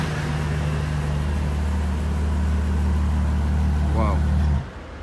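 A matte yellow Ferrari F12 Onyx sports car with an aggressive body kit idles with a deep, steady rumble close by, then cuts off abruptly near the end.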